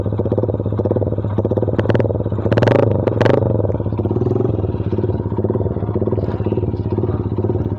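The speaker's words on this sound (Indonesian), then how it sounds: "Ini bro, knalpot RMS dalam mobil sendiri suaranya." A Yamaha MX King motorcycle with an RMS exhaust idles with a throaty, pulsing note, briefly revving louder twice before settling back to a steady loud rumble.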